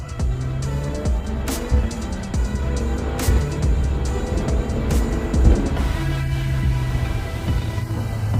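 A wrecked Mercedes GLA45 AMG engine with engine trouble accelerates with a rough, sustained roar and a few sharp revving bursts, steady and fairly close, without any speech.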